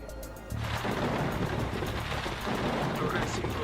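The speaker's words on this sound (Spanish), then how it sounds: "Vamos a esperar a que pase esta tormenta." A thunderstorm over an airport breaks in with a sudden loud surge of rolling thunder and heavy rain, a dense, steady roar that holds at full strength and swells slightly again partway through.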